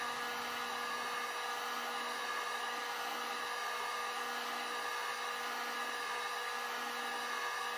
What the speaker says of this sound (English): never keeping the heat gun on one spot for any length of time.